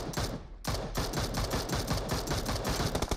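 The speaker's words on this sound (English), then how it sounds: "people shooting at us?" Rapid gunfire in the battle royale game PUBG Mobile, a fast burst of loud, closely spaced shots, a brief pause, then sustained automatic fire continuing to the end.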